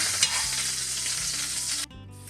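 Morel mushrooms sauté in butter in a pan, giving a steady close sizzling hiss that cuts off sharply near the end.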